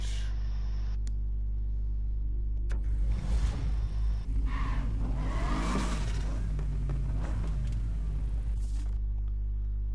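A car engine roars and revs up in the video game Need for Speed Heat, rising and falling in pitch with whooshing passes and tire noise over a steady low drone, loud and close.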